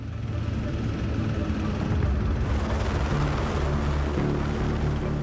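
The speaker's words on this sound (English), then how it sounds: "Housed in a specially designed compartment at the front of the vessel, a helicopter." A helicopter aboard the polar icebreaker Commandant Charcot drones steadily with a dense low rotor rumble and broadband wash, loud and continuous throughout, with a faint high whine entering partway.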